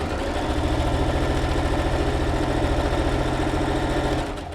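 A sewing machine stitches a t-shirt neckband seam in one steady, loud run of motor hum and rapid needle rhythm that stops abruptly near the end.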